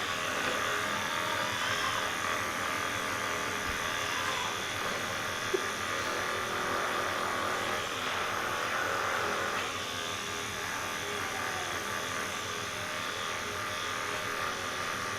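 A small portable massage device runs on the lower back with a continuous, fairly quiet buzzing hum that holds steady throughout and dips slightly in level partway through.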